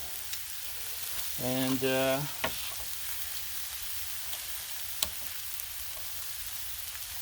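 Thick pork chops with smoke seasoning and teriyaki injection sizzle steadily on a Blackstone griddle, a close, continuous hiss running throughout, with a voice speaking briefly over it near the start.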